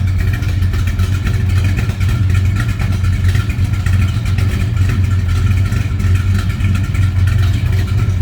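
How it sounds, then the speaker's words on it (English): A 1963 Plymouth Belvedere's 440 V8 idles steadily with a deep, low rumble and slight irregular pulsing, close by and continuous throughout. "Listen to this, nice low-y little idle."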